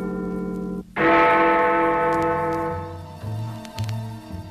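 One loud church bell strike rings out and slowly decays, its long resonant hum lingering, with a few softer tones underneath toward the end.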